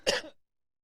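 A single short cough, loud and close, bursts out once and then leaves silence, heard during an online meeting.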